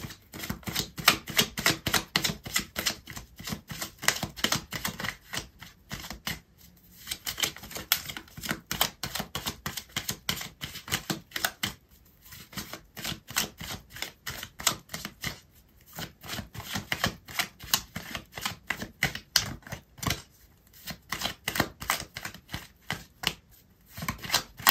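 A deck of tarot cards shuffled by hand, with a rapid, dense patter of card-edge riffles and clicks in bursts broken by short pauses, close and fairly loud with no talk.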